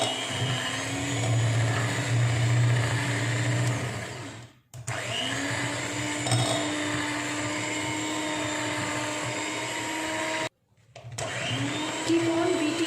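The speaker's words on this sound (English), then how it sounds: "I am using an electric blender" An electric blender whirs steadily through sugar mixture and cake batter for a plum fruit cake, a loud continuous motor drone that cuts out twice and starts up again, with no talking.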